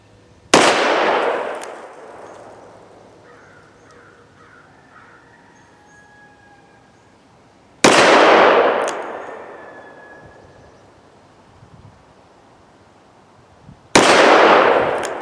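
.357 Magnum revolver fired with Alliant 2400 powder loads and Lee 150-grain round-nose bullets, three loud, well-spaced shots each ringing out and fading slowly, with faint bird calls in the quiet gaps.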